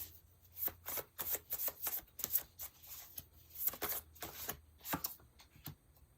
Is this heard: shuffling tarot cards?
yes